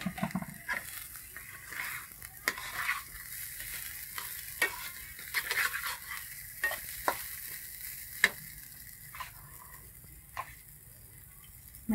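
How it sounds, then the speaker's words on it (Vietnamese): Broken rice being stir-fried in oil in a pan, a continuous soft sizzle broken by sharp, irregular scraping and tapping strokes of a utensil, close and alone without talk. "Mình xào tắm khoảng 10 phút ở trên dầu."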